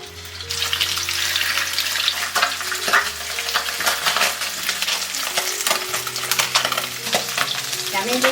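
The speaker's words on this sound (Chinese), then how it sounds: "再来起锅热油，把鱼骨头先煎一下" Sea bass fish bones frying in hot oil in a wok, giving a loud, steady sizzle with crackling bursts and a few stirring scrapes throughout.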